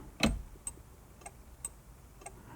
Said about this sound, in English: the indicators work without the ignition on